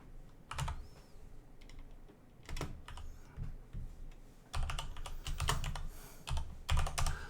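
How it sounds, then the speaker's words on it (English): Rapid clicking keystrokes on a computer keyboard come in irregular bursts and pauses, close and crisp, with no talking over them. "I have to type right."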